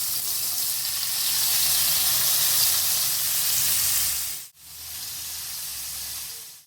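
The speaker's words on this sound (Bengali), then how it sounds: "এখন ম্যারিনেট করা পনিরগুলো এক একে ভেজে নেবো" Marinated paneer pieces fry in a mix of ghee and oil, giving a steady, loud broadband sizzle that cuts out abruptly near the end before resuming slightly quieter, with no talking.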